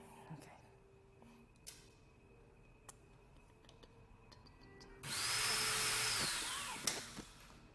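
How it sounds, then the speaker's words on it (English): A power drill whines loudly for about two seconds, its pitch rising then falling as it winds down, after quieter stretches of soft murmuring voices and light workshop clatter. "Someday I'm gonna stop using that drill"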